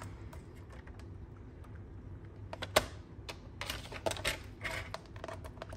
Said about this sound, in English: let's get the trimmer, make it straight. We're gonna cut that off and make a little flag